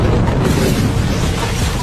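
A loud explosion in a film thriller, set at a hotel, gives a deep, sustained booming rumble that fills the whole stretch without any speech.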